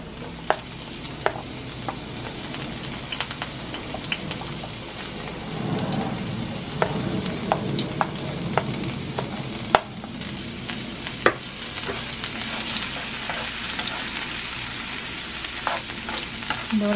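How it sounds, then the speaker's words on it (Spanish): Garlic and onion frying in olive oil sizzle steadily for a long stretch, with scattered sharp pops and crackles popping out of the constant hiss, close by and without speech. "Lo primero que voy a dorar es el ajito con la cebolla."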